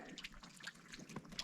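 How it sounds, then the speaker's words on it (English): Faint trickling and dripping of water from a hose running into a cattle water trough on a snowy farm, soft irregular splashes heard alone at a distance. "I'm just gonna run the hose in here"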